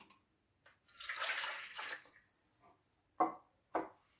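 Lukewarm water is poured from a glass into a bowl for bread dough, a close splashing pour lasting about a second, then two short splashes near the end.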